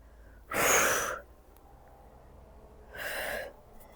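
Two loud, breathy exhales during a Pilates floor exercise, spaced a couple of seconds apart, close to the microphone with quiet room tone between them.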